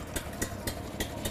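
A zero-turn Snow Rhino's engine runs at a steady idle after starting, a continuous low mechanical hum with faint periodic ticks, close and moderately quiet, with no talking.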